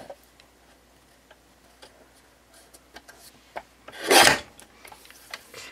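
Paper trimmer slicing card stock, a single close scraping cut after scattered light ticks and taps, short and crisp against a quiet background.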